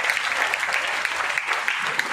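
Parents and teachers at a school parent-teacher meeting applaud in a brisk, sustained round of clapping with scattered sharper claps, fairly loud and uninterrupted by speech.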